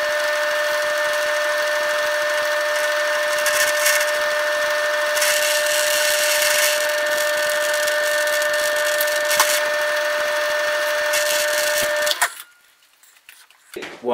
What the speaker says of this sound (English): We're going to slow this machine down. And we're going to ream straight through.